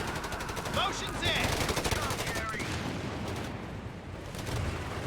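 Gunfire in the World War II strategy game Company of Heroes 3: rapid machine-gun bursts and scattered shots rattle over a dense battle din, loud and continuous.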